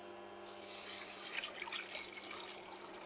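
Water being poured into a pot on an induction hob for homemade banana and honey wine, a steady splashing trickle that runs throughout, close by with no talking.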